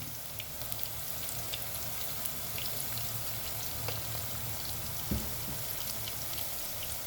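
Chili powder, coriander powder and ginger garlic paste fry in a pan for a capsicum curry, making a steady close sizzle with a faint stirring tap partway through.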